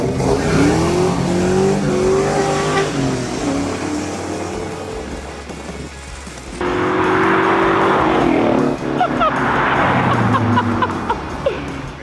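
A drift car with a welded differential revs hard and slides, loud engine roar rising and falling with repeated tire squeal across two long runs separated by a brief lull.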